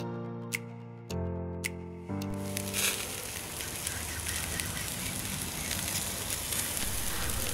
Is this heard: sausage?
yes